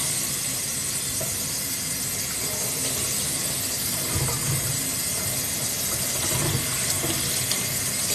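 Tap water runs steadily while hair is being wet for curling, a constant close hiss and splash with slight shifts as the flow is interrupted by the hair.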